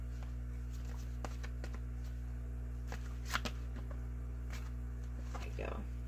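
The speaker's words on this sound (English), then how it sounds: "Let me pull a love card real quick." Tarot cards are shuffled in a few soft riffling bursts under a steady low hum, faint and close, with a quiet voice present.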